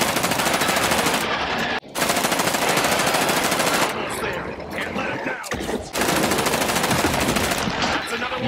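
A fast-firing gun in the video game State of Decay 2, loud near-continuous automatic bursts with two short pauses, dense and close.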